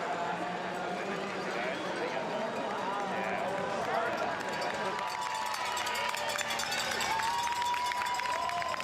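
Crowd cheering and applauding runners along Elgin Street at an Ottawa 10k race, a steady distant roar of voices and claps with motorcycles leading the pack, under continuous commentary.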